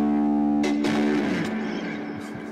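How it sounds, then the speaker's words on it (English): A Hofner Club 50 hollow-body electric guitar, played through heavy distortion and overdrive, sustains a held tone, then a loud strummed chord rings out and slowly decays. "you throw enough distortion and overdrive the end and it'll distort"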